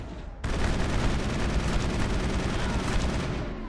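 Gunfire against a sniper in Mass Effect 1 on Insanity difficulty: a loud dense burst of shots starting abruptly and continuing for several seconds.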